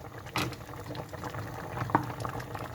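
Dried fig jam bubbling in a pot, with quiet low bursting bubbles and soft pops throughout and a slightly sharper pop near the end.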